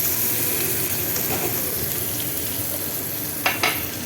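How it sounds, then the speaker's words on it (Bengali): Hilsa fish heads frying in a pan, giving a steady, close sizzle throughout, with a couple of brief sharp clinks near the end. "ভালো করে একটু ভেজে নিই, লাল লাল করে একটু ভেজে নেব।"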